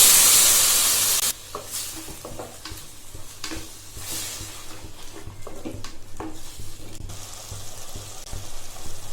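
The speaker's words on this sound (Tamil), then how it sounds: "இப்போ அரைச்சி வச்சுருந்த தக்காளி பேஸ்ட்டை ஊற்றிக்கலாம்." Ground tomato paste poured into a hot frying pan of pasta and beans, setting off a loud steady sizzle with stirring scrapes and bubbling that carries on close by.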